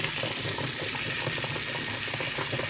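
Lemon juice poured into a pan of cooking shrimp, a steady close wash of liquid hiss and bubbling sizzle that holds evenly throughout.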